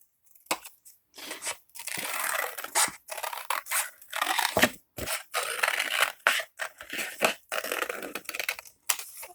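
Scissors snip through paper to trim a honeycomb beehive craft, with close, crisp cuts repeating in quick irregular bursts separated by short pauses.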